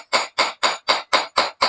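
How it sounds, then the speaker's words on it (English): A hammer driving a nail to fix trunking pipe during a CCTV installation, seven evenly spaced, close, sharp blows in quick succession with brief silences between them. "This is what I'm using the hammer to do."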